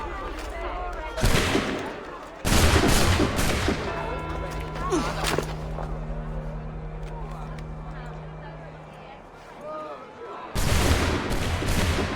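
A gunfire volley in Assassin's Creed 3, with loud crackling bursts of massed musket shots, a rumbling lull between them and another burst at the end, as voices speak in between.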